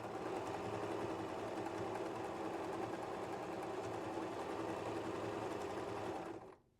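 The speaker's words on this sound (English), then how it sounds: "I'm going to stretch the knit fabric just a little bit as I sew" A bernette sewing machine runs steadily while stitching knit fabric with a blind hem foot, giving a close, continuous mechanical whir at even speed that stops abruptly at the end.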